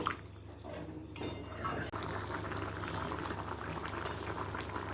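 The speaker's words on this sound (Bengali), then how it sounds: "মিডিয়াম টু হাই ফ্লেমে তিন মিনিট ফুটে গেছে" Curry of soybean chunks boils in a pan over a medium-to-high gas flame, a steady dense bubbling and gurgling that runs unbroken and fairly close, with no voices.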